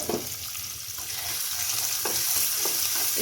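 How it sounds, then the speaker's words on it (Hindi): Onion and ginger-garlic paste fry in hot oil for a creamy chicken pasta, a steady close hiss of sizzling broken by a few scraping stir sounds, with no talking. "इसी के अंदर ये जो एक प्याज है इसे हम फ्राई करूँगी"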